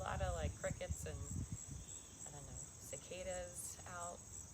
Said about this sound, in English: There's a lot of crickets and